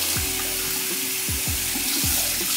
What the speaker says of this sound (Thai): เปิดน้ำไหลผ่านเลย